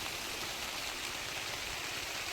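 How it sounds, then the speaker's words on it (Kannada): Steady rain falls outdoors during an afternoon downpour, a faint, even hiss of drops with no breaks and no voices. "ಮಧ್ಯಾಹ್ನಿಂದಲೂ ಮಳೆನೇ ಎರಡು ಎರಡು ಗಂಟೆಯಿಂದ"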